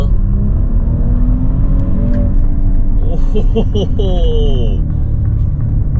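A 2022 Maserati Levante S V6 SUV engine roars steadily under full throttle, a loud continuous rumble, while a voice briefly exclaims partway through.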